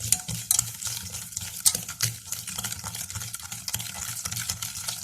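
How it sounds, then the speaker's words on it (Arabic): Eggs, sugar and oil being whisked together in a bowl for a lemon cream cake batter, a steady close-up scraping and swishing of the whisk against the bowl with faint clinks, no talking. "دابا غندير ندوب السنيده مع السكر مع البيض"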